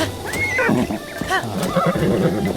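A horse in the Zelda Breath of the Wild video game whinnies loudly, several rising and falling neighs in quick succession, close up over faint background game sounds.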